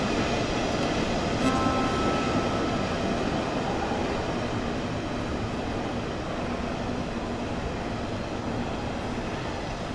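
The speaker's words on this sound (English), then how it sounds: "I can hear it pulling in." A train in Train Sim World 2's Dresden route rolls into a station, a continuous low rail rumble, slowly easing and moderately distant, with a brief high squeal near the start and no voices.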